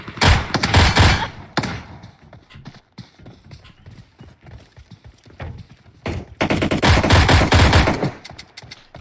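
Pistol gunfire in the PC version of PUBG, sharp rapid shots in loud clustered bursts at the start and again near the end, separated by a quieter stretch of scattered pops and thuds.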